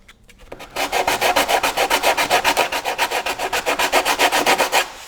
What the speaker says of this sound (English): you don't want to sand through the glass over the initial Bondo spot